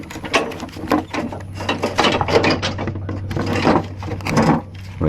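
A mower deck latch on a Toro TimeCutter MX 5025 riding mower is lifted and shifted back, giving close scraping, rubbing and knocking clatter in irregular bursts.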